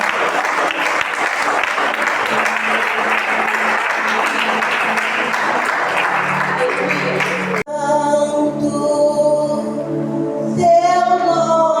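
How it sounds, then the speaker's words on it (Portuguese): A church congregation applauds to praise the Lord, a dense, steady wash of clapping for several seconds that cuts off abruptly as singing and music begin. "as palmas podem louvar o nome do Senhor"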